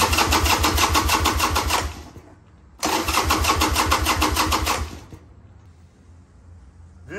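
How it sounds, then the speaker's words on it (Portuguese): Harley-Davidson motorcycle with 25 years of use, started with the choke set: two loud bursts of rhythmic engine cranking and chugging, each about two seconds, cutting out with a short pause between them and quiet afterward. "Tem que pegar aqui regulando no afogador pra ligar ela."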